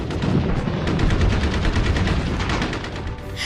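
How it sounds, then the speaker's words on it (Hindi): Heavy, sustained gunfire crackles in rapid bursts, overlapping shots and booms forming a dense, continuous barrage throughout. "सामने से जबरदस्त फायरिंग आई"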